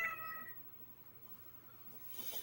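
A cat meows softly indoors: one faint drawn-out meow at the start, a stretch of near quiet, then a short louder cry at the very end.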